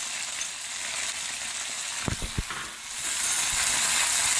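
Ginger garlic paste frying in a pan over high heat for bhuna mutton, a steady hiss with a few sharp knocks of utensil against the pan partway through, then the sizzle swelling louder near the end.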